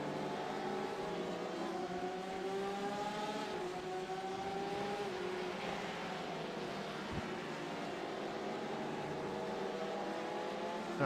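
Prototype LMP race cars in the iRacing game at Watkins Glen, a steady engine roar with rising and falling pitch sweeps as several cars accelerate through the opening corner, continuous and fairly distant.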